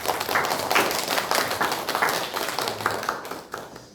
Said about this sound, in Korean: 우리 조보면 총장님에게 다시 한번 격려의 박수를